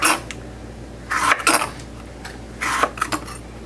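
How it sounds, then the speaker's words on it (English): A knife slices yellow bell peppers into long strips on a board, producing three short bursts of crisp cutting and tapping separated by quiet pauses, close and fairly loud. "So you cut all the peppers the same."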